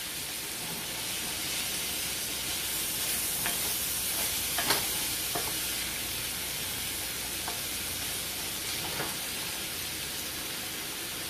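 Mexican goulash simmering in a pan gives a steady broadband sizzle and hiss throughout, with a few faint pops and clicks scattered across it and no talking.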